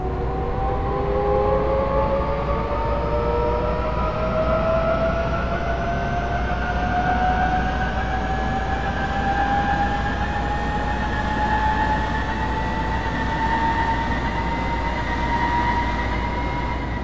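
A subway train pulls away and runs along the line toward Namyangju Court, its motor whine climbing steadily in pitch over a constant rolling rumble, close and loud with no talking.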